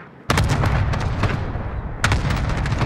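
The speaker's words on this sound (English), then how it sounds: "Cluster strike away." Cluster strike artillery barrage in a shooter video game, two sudden loud blasts followed by rolling rumbling explosions, close and sustained with no talk.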